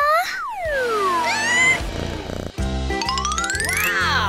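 Cartoon cat meows in a lively animated scene, several stretched, wavering cries rising and falling over bright background music with chimes and tinkling effects, loud and close.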